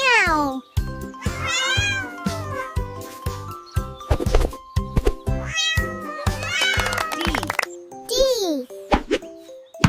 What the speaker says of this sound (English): C is for cat. Cat. Meow.